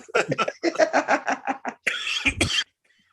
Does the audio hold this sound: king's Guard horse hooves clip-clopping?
no